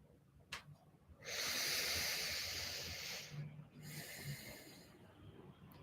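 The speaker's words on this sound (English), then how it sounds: "Take a deep diaphragmatic breath." A deep diaphragmatic breath during a guided meditation: one long, airy inhale close to the microphone, then a softer, slower exhale, with no words spoken.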